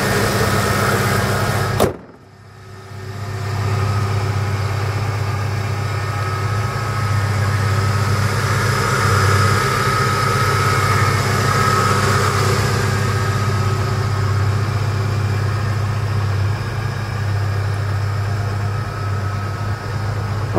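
A 2007 Ford F-150 with the 5.4-liter engine idles steadily and close by, a low even hum that holds for about twenty seconds after a brief sharp click near the start.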